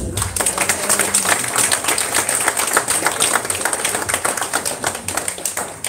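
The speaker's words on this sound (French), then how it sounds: "Applaudissez Jésus." A church congregation claps hands together in a sustained, dense burst of steady applause that fills the space, with no speech over it.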